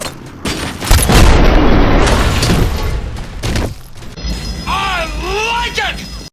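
The Cobra assault cannon in Robocop Rogue City fires a heavy, booming shot followed by a long rolling roar and debris rumble, then fades into quieter mechanical sounds with someone speaking over the end.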